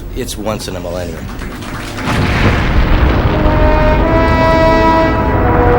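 A massive asteroid impact explosion of a million megatons erupts as a loud, sustained rumbling roar that swells after the opening seconds and keeps thundering with heavy low-end power throughout.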